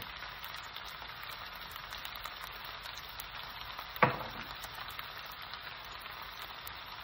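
Beef and broccoli with oyster sauce stir-frying in a pan, a steady close sizzle with one sharp clack of a utensil partway through.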